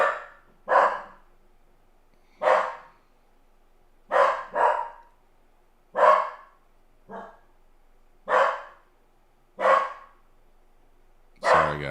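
A dog barks in single sharp woofs and occasional doubled barks, spaced a second or two apart, fairly close and clear with quiet gaps between.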